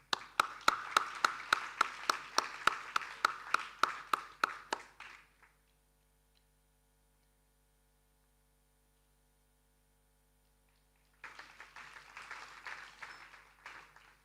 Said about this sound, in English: Can we please have a louder round of applause for the awardees?